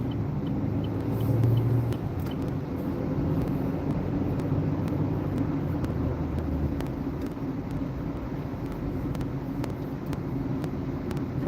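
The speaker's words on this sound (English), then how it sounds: "Probably a kid driving to school" A car passes on a nearby road, a steady low rumble that swells briefly early on and then holds as a continuous road drone, with no talking.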